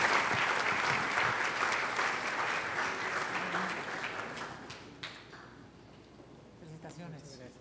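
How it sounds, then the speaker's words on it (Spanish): An audience at an award ceremony for public management recognitions in Santo Domingo applauds a winner, dense clapping that gradually thins and fades, giving way to quieter room sound and a voice near the end. "Un aplauso."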